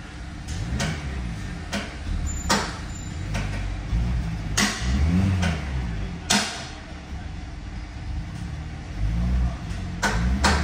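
A 2019 Kia Optima engine revs under throttle while running slightly rough, close by: a low rumble with repeated sharp clicks and knocks, plus a few surges over about ten seconds.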